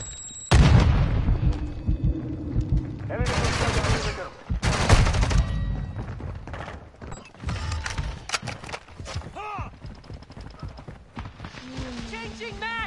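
Rapid M16 rifle bursts in the Modern Warfare 2 multiplayer game, loud, clustered volleys with sharp reports and booms, separated by brief gaps, with game sounds and a voice talking in between.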